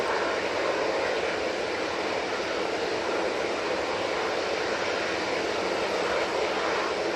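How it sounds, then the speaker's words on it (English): An EasyJet airliner departing Manchester Airport on a flight to Thessaloniki, a steady broadband jet roar holding at an even, moderately loud level throughout, with no voices over it. "that's the EasyJet off to Thessaloniki"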